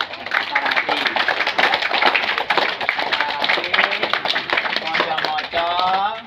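Primary school children clap in a lively, dense patter of many hands in a classroom, with voices and chatter mixed in underneath throughout.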